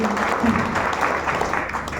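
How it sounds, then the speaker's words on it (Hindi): An audience at a Sunday seminar claps loudly together, a dense steady burst of applause holding evenly for a couple of seconds. "मैं चाहता हूँ तीनों शख्स के लिए एक जोरदार ताली होनी चाहिए"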